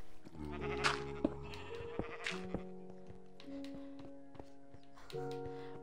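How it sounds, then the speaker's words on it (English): Disco sheep in a Minecraft-style video game bleat several times over looping game music with tonal notes and a few taps, fairly loud and close, no talking. "Why can't the disco sheep spawn in someone else's house?"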